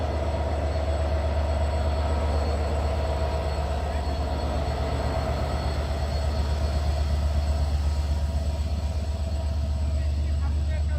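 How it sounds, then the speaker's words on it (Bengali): An American-built EMD diesel locomotive rumbles steadily, a deep continuous engine drone with a constant hum running through it, loud and unbroken throughout. "এই যে আজকে আমাদের ট্রেনের লোকোমোটিভ EMD 66-11, যেটা বলছিলাম, আমেরিকা থেকে আমদানি করা।"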